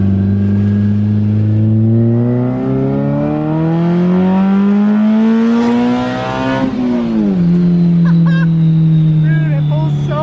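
A Toyota AE86 engine climbs steadily in pitch under hard acceleration, loud and close, then drops briefly at a gear change before pulling again, with people talking over the roar.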